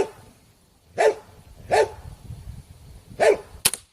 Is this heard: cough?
no